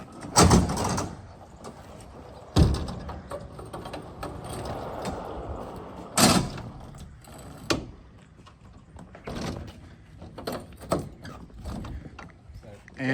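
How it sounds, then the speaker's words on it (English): Large sliding doors on a lumber kiln at a log yard are rolled closed, giving rumbling metallic rolling with several sharp clanks and bangs spread across the span, heard nearby. "Once your lumber is in and you're ready to go, you're just going to bring these doors in."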